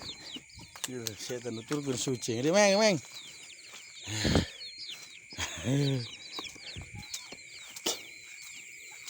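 Crested hens cluck and squawk in a coop, with hen calls repeating in short bursts over a steady bed of small-bird chatter, while a person talks.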